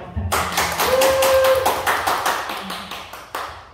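An audience at a network marketing seminar applauds a lecturer, a burst of clapping that starts abruptly, holds fairly loud and close, then thins out with a few scattered claps at the end.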